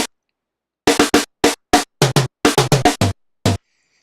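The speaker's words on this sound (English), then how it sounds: "Gate sounds like this." Drum samples from the CrispKit drum plugin played in gate mode, heard as about a dozen short, clipped percussive hits in an uneven pattern, each cut off abruptly after a brief burst, loud and dry with no talk.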